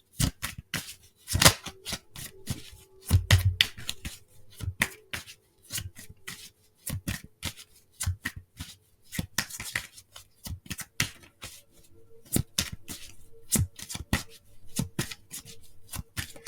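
Tarot cards being shuffled and drawn by hand, a run of sharp, close riffling and slapping bursts spread irregularly through the stretch, with brief quiet gaps between them.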